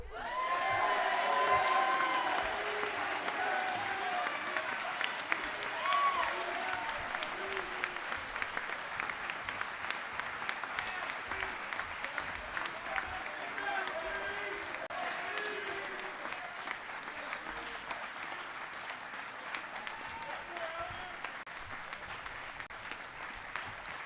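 Applause at a school commencement ceremony for student award winners, a long, fairly distant round of clapping from a crowd with a few cheers, tapering slightly toward the end, with a voice briefly audible near the start.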